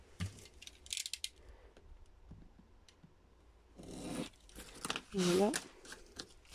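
Scissors snipping the corners of a paper pop-up structure, giving several small close cuts and rustles, with a brief spoken word near the end.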